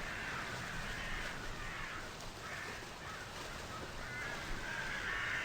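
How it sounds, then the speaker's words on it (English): Crows in the video game Heartworm caw over and over at a loud level against a dense, steady ambient background. "Ah, the crows, they're so loud!"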